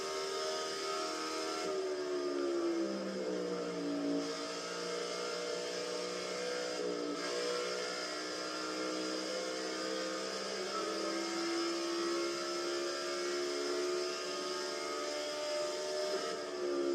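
Stock cars race at Darlington in the NASCAR 14 video game, engines droning in a continuous high-pitched whine with pitch rising and falling through gear and speed changes, steady and loud for the whole stretch.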